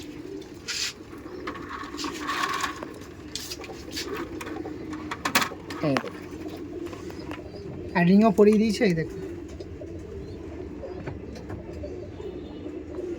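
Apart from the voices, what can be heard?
pigeons cooing in a racing pigeon loft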